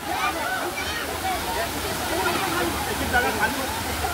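A waterfall at Panvel in Navi Mumbai, a steady dense rush of falling water filling the scene at close range, with faint voices of people in the background.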